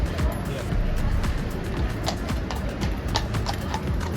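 A royal guard's agitated horse clops its hooves on pavement in a steady rhythm nearby, heard under a bustling crowd of tourists talking.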